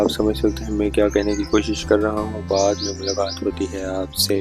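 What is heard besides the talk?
birds chirping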